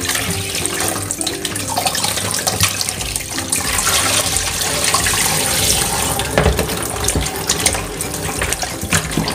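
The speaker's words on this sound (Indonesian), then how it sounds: "kita cuci lagi dengan air dingin" Cold tap water runs hard over chicken pieces in a sink for Indonesian opor ayam, a loud, continuous splashing rush with shifting gurgles as the meat is rinsed, no talking.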